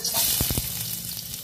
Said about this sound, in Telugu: అలాగే పచ్చిమిరపకాయలు క్యాప్సికం ముక్కలు ఇవన్నీ వేసి వేయించుకోవాలి